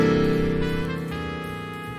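A 7-sharp 13th chord held on a keyboard, a dense sustained chord already sounding and gradually fading, with a slight shift in the upper notes partway through.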